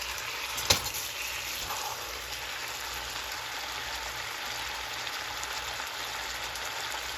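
Pork adobo with sugar cooking down in a pan, with a steady close frying hiss that runs the whole time and a single sharp clack of a utensil near the start.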